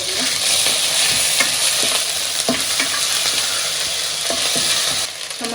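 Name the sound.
onions with ginger garlic paste frying and stirred in pan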